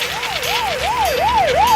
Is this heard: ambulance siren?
yes